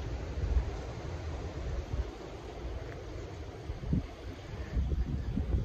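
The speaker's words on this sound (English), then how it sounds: "That wind." Strong wind on a very windy day buffets the microphone outdoors, a continuous low roar with gusty swells and rumbles throughout, with no voices.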